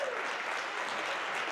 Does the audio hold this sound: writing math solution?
no